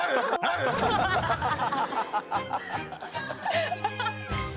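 A chicken squawks and clucks in loud, agitated bursts up close, mixed with people laughing and chattering around it.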